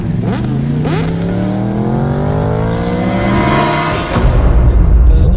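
A motorbike engine revs loudly nearby, its pitch climbing and sliding in long sweeps before dropping into a heavier, rumbling roar.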